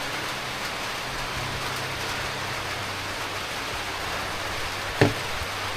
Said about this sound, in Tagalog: Bumuhos na naman ang ulan.